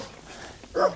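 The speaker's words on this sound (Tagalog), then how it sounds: "May aso rin dito eh. Lalaki dito yung aso." A large dog lets out a single short bark near the end, sudden and fairly close after a moment of low background noise.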